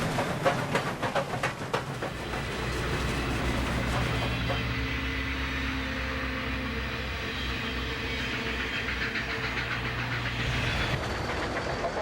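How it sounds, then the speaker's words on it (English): Southern Pacific cab forward steam locomotive working as a helper on a train climbing Cuesta Grade near Santa Margarita, a loud sustained rumble with rhythmic clatter early on, then a steady heavy drone of the passing train. "At Santa Margarita, a helper was required for the trip over Cuesta Grade. Here, a cab forward does the honors."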